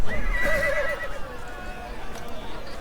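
A horse in the online role-playing game Justice Online gives a short whinny, with a faint clip-clop of hooves beneath and a voice nearby.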